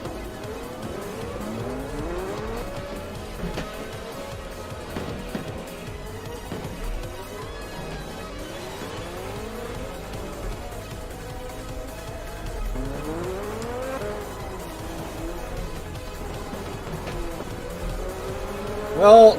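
Race cars in the rFactor sim circle an oval in an IndieCar series, engines rising and falling in repeated pitch sweeps as they pass through turns, a steady close roar running the whole way under a commentator's voice.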